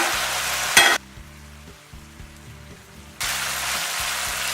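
Chopped tomatoes frying in oil in a pan for a moong dal tadka, a loud, steady hiss and crackle that briefly drops away to a low hum before the sizzle returns at full strength.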